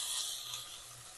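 Finely chopped spinach greens sizzle in a hot pan, a steady bright hiss with faint scraping, close and alone without talk.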